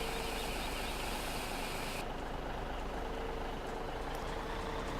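A truck engine idles with a low, steady rumble in Farming Simulator 17, constant and moderately loud, a faint whine fading partway through.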